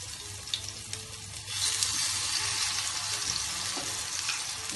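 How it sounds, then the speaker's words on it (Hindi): Eggplant slices fry over a medium flame in a pan, sending up a steady, close hissing sizzle that grows louder partway through and then continues evenly to the end. "आठ से 10 मिनट हमें फ्राई करने में लगेगा।"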